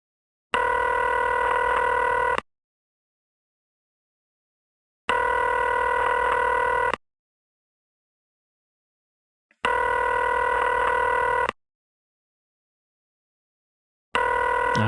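A telephone rings in the video game McKenzie & Co., four evenly spaced bursts of ringing tone, each about two seconds long with equal silent gaps, clear and unanswered, with no voices.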